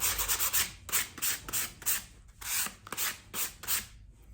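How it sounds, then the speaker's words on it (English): Rhythmic scratchy rubbing of 240-grit sandpaper on a sanding block over chalk paint, repeated back-and-forth strokes about twice per second, close and steady, with no talking. "I've got some 240 grit sandpaper and my sanding block, and just really lightly sand out any imperfections."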